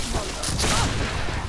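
Shotgun blasts in the video game Bloodborne come as a dense, noisy burst of gunfire over a brief moment, loud and close.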